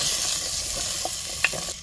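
Drumstick pods stirred in hot oil with turmeric in a pan: a continuous frying sizzle with a few soft scrapes of the spoon, close and steady, with no talking.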